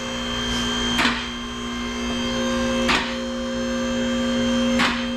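A car lift motor raising a Mitsubishi Evo X in a home garage gives a loud, steady electric hum with a constant tone, broken by three evenly spaced clunks about two seconds apart.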